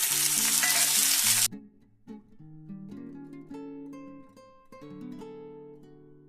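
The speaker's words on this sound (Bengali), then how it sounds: "আমি পেঁয়াজ ভাজলাম আর টমেটো আর ক্যাপসিকাম দিলাম" Onion, capsicum and tomato fry in oil in a pan with a loud, dense, steady sizzle for about a second and a half, which then cuts off and leaves background music.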